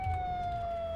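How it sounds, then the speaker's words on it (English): A police siren switched on in a video game role-play sounds as a steady sustained electronic tone, held level and fairly close for the whole moment, with no talk over it. "Got turn on the siren first, big fella."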